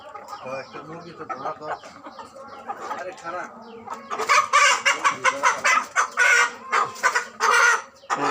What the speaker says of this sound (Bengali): টাইগার জাতের মুরগি